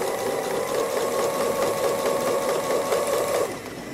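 Sewing machine stitching free-motion embroidery of stems on a harvest squirrel design, a steady, fast, close mechanical whirr that runs slow and even before cutting off near the end.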